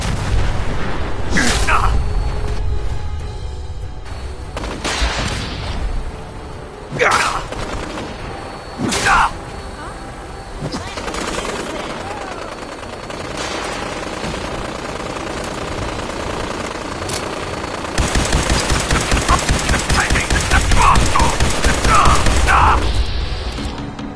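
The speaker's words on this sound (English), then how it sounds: "Taking fire!" Gunfire erupts in Fallout 4, with sharp separate shots cracking out early, then denser rattling bursts of fire building toward the end over a noisy combat background.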